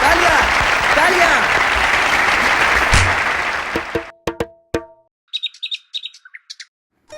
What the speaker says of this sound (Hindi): तालियां तालियां तालियां तालियां तालियां तालियां।